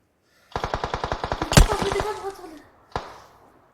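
In a video game, a rapid burst of automatic gunfire of about a dozen evenly spaced shots rings out, then a louder blast and one more shot after a pause.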